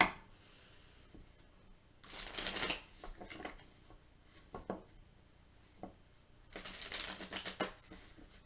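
A deck of oracle cards being shuffled and pulled, with two bursts of crisp riffling whirr separated by softer taps and slides of individual cards, close and fairly quiet.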